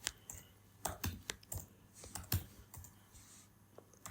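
Data is typed into an Excel spreadsheet on a computer keyboard: soft, close key clicks in irregular bursts with brief pauses, fairly quiet and with no speech over them.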